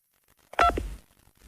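A single short telephone keypad tone sounds as key 2 is pressed, a clear two-pitch beep lasting under half a second, with faint line noise around it.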